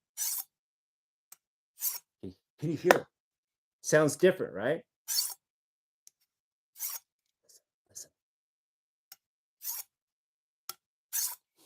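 A knife is drawn across a diamond-coated sharpener in a series of short, crisp rasping strokes, close and fairly quiet, separated by pauses, with someone speaking briefly in between.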